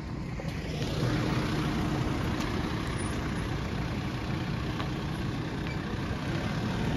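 Vehicles rolling up to a company gate, a steady broad engine and road rumble that holds evenly throughout with no clear speech over it.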